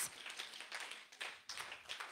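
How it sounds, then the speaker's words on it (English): Congregation in a church service clapping together, soft but rhythmic rounds of hand claps rising and falling in waves, with no voices over them. "Mighty God, clap for Jesus."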